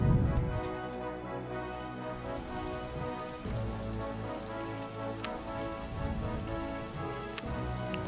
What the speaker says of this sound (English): Is the rain again?